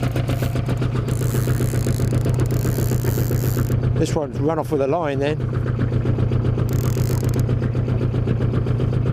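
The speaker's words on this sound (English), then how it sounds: "It might be an old bob engine, what we call bob, but we're looking at reliable." An old engine on a mahogany fishing boat out on the ocean runs steadily with a low, throbbing chug and rattle, close and constant, while someone speaks briefly over it midway.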